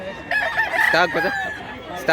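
A rooster crows nearby at a gamefowl gathering in Mantalungon, Barili, Cebu, giving several loud, wavering calls, with a brief burst at the end and faint background voices.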